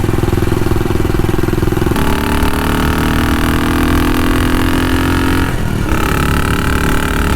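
A classic motorcycle engine runs close and loud, ridden on a commute. It shifts gears with rising and falling pitch sweeps and a brief dip near the end before it pulls again, and no one speaks.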